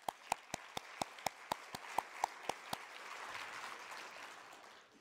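An audience at a keynote address claps in about a dozen sharp, evenly spaced, fairly faint single claps, which fade into a soft, diffuse room murmur.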